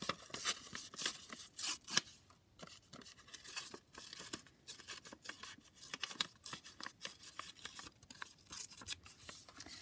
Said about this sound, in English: Let's just tear off a little piece of that.